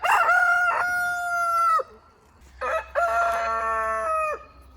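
A rooster crows twice among hens, each long, loud call rising and holding before trailing off, with a short pause between them.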